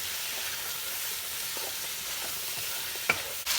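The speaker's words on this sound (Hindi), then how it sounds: "अब हम इसमें मटन ऐड करेंगे, और 2 मिनट मटन को भुनेंगे।" Mutton stir-fried in a pan for gobi gosht, a steady low sizzle and hiss with faint stirring scrapes and a brief clink near the end.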